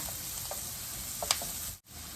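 Canned tuna stir-fries with onion in oil in a pan, a steady soft sizzle under light stirring scrapes and a few faint clinks.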